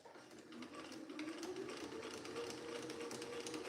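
A sewing machine with off tension runs steadily at close range, a continuous fast mechanical whirring and clatter of stitching with a faint whine, no talk.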